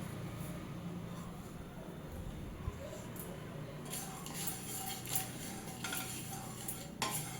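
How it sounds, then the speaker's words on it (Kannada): Spices being stirred and roasted in a pan for puliyogare gojju powder, with soft scraping and occasional light clinks of a spoon against the pan, quiet and continuous. "ಸ್ವಲ್ಪ ಕೆಂಬಣ್ಣ ಬರೋವರೆಗೂ ಸ್ವಲ್ಪ ರೋಸ್ಟ್ ಮಾಡ್ಕೊತೀನಿ ನಾನು."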